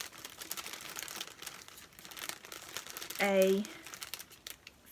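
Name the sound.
rustling of thread packaging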